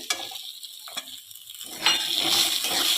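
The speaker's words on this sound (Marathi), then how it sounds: "आता अर्धा मिनिटभर चांगलं तेलात परतून घेऊया" Pumpkin pieces sautéing in hot oil with turmeric and red chilli, a soft sizzle with light stirring scrapes that grows steadier and louder toward the end, close by and without speech.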